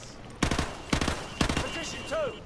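Three quick bursts of rapid gunfire in Call of Duty: Modern Warfare Remastered, each a short rattling volley, spaced about half a second apart, followed by fainter game sounds.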